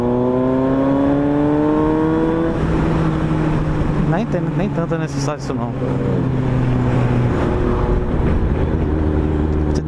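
A Suzuki GSX-S750 motorcycle on the move, its engine droning and shifting pitch as it rides along, with someone talking over the steady engine and road noise.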